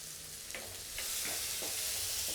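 Onion and crushed garlic frying in oil in a pan for a tapioca masala, a steady loud sizzle with a few scraping stirs of the spatula, no talk.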